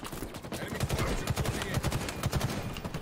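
Rapid gunfire in Halo Infinite during a ranked capture-the-flag match, with dense bursts of shots and low impacts running steadily through the whole stretch.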